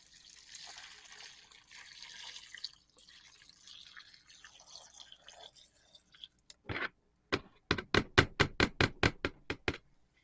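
Soft liquid rushing and trickling as lye water is poured into hard oils and butters for soap making, followed by a quick series of sharp, regular dripping taps, close by and growing steadily louder.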